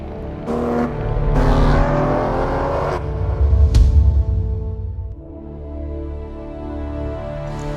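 An Aston Martin Vanquish or DB9 on the Norwell racetrack on the Gold Coast, its engine revving in rising pitch sweeps through gear changes, swelling to a louder pass and then settling into a steadier drone.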